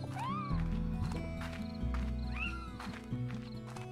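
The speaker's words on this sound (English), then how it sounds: "And yes, they are making cat noises." Slimes in the game Slime Rancher making cat noises: repeated meows and whiny cat-like calls over a steady hum of game music and ambience, moderately loud and close.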